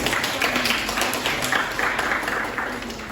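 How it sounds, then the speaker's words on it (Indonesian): Students in a classroom economics lesson clapping for a presenting group, a dense steady round of applause filling the room, moderately loud and continuous before fading slightly. "tepuk tangan buat kelompok 3"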